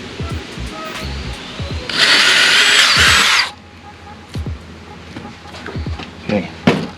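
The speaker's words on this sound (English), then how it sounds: "I'm gonna drill the holes through that" A power drill bores holes through a plate while fitting a trolling motor to a Perception kayak: a loud, bright whine of about a second and a half, set between scattered knocks and handling clatter.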